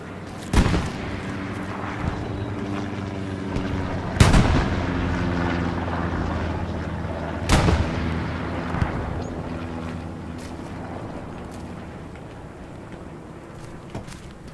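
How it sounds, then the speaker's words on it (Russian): Enemy artillery fires in a sniper video game, three heavy booms spaced several seconds apart over a constant low rumbling drone, with no talk. "вражеские артиллеристы только начали стрелять"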